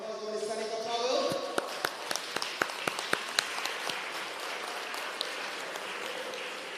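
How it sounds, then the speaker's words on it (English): At an annual general meeting prize giving, an audience claps in a loose, moderate round. Sharp individual claps stand out over a voice speaking at the start, and the applause thins as it fades. "Can I get a round of applause for Miss Sanika Powell?"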